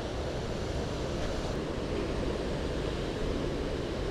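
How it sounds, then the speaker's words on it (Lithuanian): Roar of a waterfall heard from right beneath it, a dense, constant rushing wash of falling and spraying water, loud and unbroken with no voices. "Po krioklio esame."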